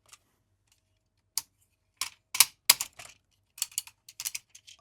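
Plastic and metal parts of a Transformers Star Convoy toy snap and click into place, a scattered run of sharp close clicks in small irregular bursts with quiet gaps between.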